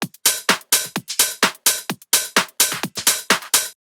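A busy, loud tech house percussion loop of crisp claps and hi-hats, dense bright hits in a fast driving rhythm, with no one speaking.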